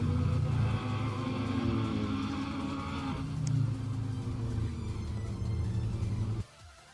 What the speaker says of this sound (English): At least I know this car in like real life is like very aggressive sounding.